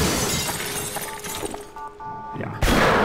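Glass case shattering in the video game Half-Life: a loud burst of breaking glass near the end, preceded by softer game ambience and faint sounds.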